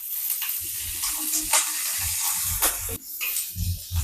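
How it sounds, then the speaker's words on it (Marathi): Green chillies roasting on a hot tawa griddle give a steady sizzle and hiss with crackling pops, close and moderately loud, alone without talk. "हे मिरच्या मी आता ताव्यावर टाकते"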